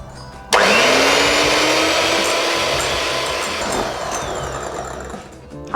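An electric hand mixer whips egg whites with sugar for a watermelon-style sponge cake, switching on abruptly and holding a steady, loud, high whirring drone with a faint pitch glide, no talk.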